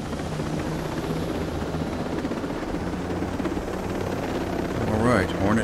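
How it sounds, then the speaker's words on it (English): Hornet helicopter arriving in the video game Ghost Recon Breakpoint: steady rotor thrum and engine drone throughout, loud and close, swelling slightly toward the end. "Let's communicate with HQ and have a Hornet copter brought in."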